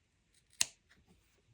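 A single crisp snip of scissors cutting through a firm felted wool ball, sharp and close, with faint handling rustles before and after in an otherwise quiet room.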